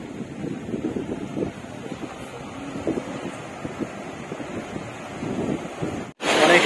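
Sea surf at Mirissa beach, Sri Lanka, washing ashore in a steady low rumble mixed with wind buffeting the microphone, ending in a sharp gust of noise.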